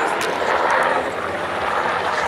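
A UH-60 firefighting helicopter at an air show gives off a loud, steady broadband rotor and engine roar, close and continuous throughout.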